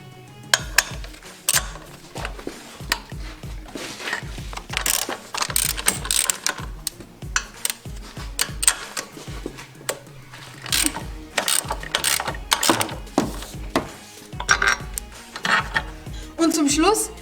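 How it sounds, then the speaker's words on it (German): A ratchet with an 18 mm socket unscrews engine bolts on a 1.4-litre, 80 hp VW during timing belt and water pump work. It makes loud, close, rapid clicking runs in repeated bursts, with someone talking at times. "Als nächstes schraube ich die beiden Schrauben mit einer 18er Nuss raus."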